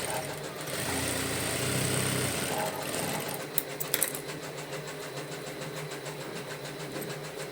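A sewing machine runs a fast, buzzing burst while double-stitching a blouse sleeve, then drops to a quieter hum with a few sharp clicks as the fabric is handled.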